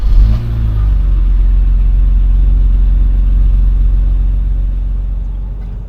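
A BMW E34 M5 engine sounds a loud, steady low rumble while driving, holding a constant drone with a brief dip near the start and a slight fade toward the end.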